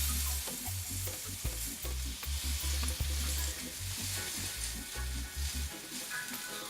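Vegetable skewers with leek sear on a grill pan, a steady broadband sizzle running throughout with repeated low thumps and scrapes as the pieces are pressed and shifted, no voices.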